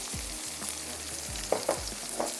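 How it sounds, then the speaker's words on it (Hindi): Garlic ginger paste and turmeric powder sizzling in hot oil for a fish gravy, a steady low fry broken by a few spoon stirs and scrapes, close and fairly quiet. "लहसुन अदरक का पेस्ट, साथ ही ऐड कर देंगे हल्दी पाउडर"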